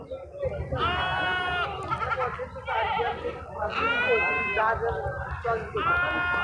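Crossbred goat kids at a Sunday livestock market, several loud close bleats in quick succession over a busy background with people talking.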